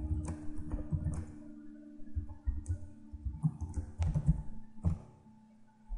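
Clicking at a computer while editing content in web software: a run of sharp, irregular clicks and taps close by, some in quick pairs and some spaced apart, with no talking.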